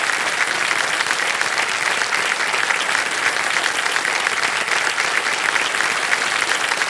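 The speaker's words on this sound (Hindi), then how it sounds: "तालियां बज जाए इनके लिए।" Steady studio audience applause for a contestant on the quiz show KBC, a thick, even roar of many hands sustained for about seven seconds without a break.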